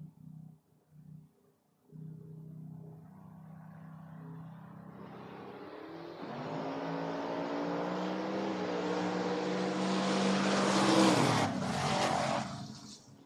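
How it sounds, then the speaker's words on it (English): A Mustang and a Camaro launch side by side in a drag race, engines starting as a low rumble, then roaring loudly and rising in pitch as both cars accelerate hard down the strip. "718 the dial for the Mustang, taking on Jed Narr in the Camaro, 585 on the yellow machine."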